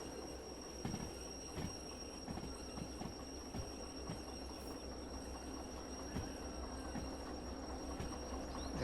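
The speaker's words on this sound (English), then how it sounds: "Monitor the train as she slows down." Freight train in the Derail Valley simulator rolling along track as it slows down, a steady low rumble of wheels and cars with periodic clacks of rail joints and faint high squeals, continuous and fairly near.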